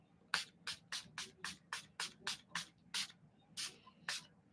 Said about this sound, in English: it's a mattifying finishing spray